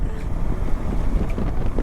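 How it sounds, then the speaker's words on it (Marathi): Wind gusting over a mountain ghat road near Varandha Ghat in the Mahad region, a steady low rush of buffeting air and microphone wind noise that runs continuously and fairly loud, with no voices over it. "एकदम गारगार वारा असा अंगाला टच होतोय"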